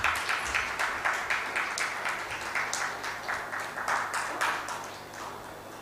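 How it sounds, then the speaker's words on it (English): Audience applause for panelists at a national sustainability conference in a hotel hall, with rhythmic, slightly synchronized clapping pulses from a moderate crowd, tapering off toward the end. "Please give a huge round of applause,"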